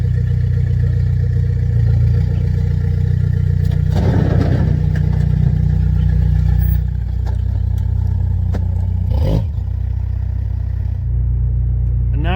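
A lowered Rover 45 car driving, its engine a steady low rumble with road noise, occasional clattering knocks from the suspension and a brief louder thump partway through.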